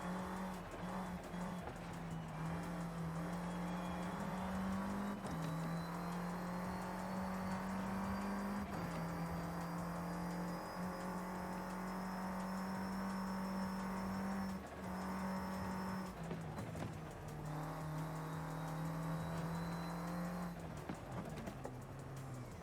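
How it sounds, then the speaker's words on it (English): A turbocharged race car engine in Forza Horizon 5, S1 class, drones loud and steady for over twenty seconds. Its pitch rises and dips with throttle play and drops at several shifts, with faint tire squeal and no talking. "Again, playing with the throttle to keep that turbo spooled up"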